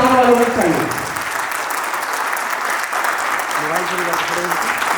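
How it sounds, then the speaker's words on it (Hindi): An audience in a hall applauds while a guest is honored at a training academy session in Patna, with steady sustained clapping throughout and a voice speaking over it at the start and near the end. "आप सबों की क्लैपिंग जोरदार वालों में चाहिए"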